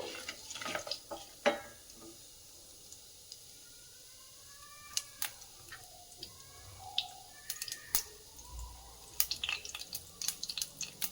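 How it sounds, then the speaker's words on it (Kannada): Quiet frying of tempering spices in oil with scattered sharp pops and crackles, light clinks of a utensil now and then, no voices. "ಇದು ಕಂದು ಬಣ್ಣ ಬರುವವರೆಗೆ ನಾವು ಇದನ್ನ ಫ್ರೈ ಮಾಡಬೇಕು."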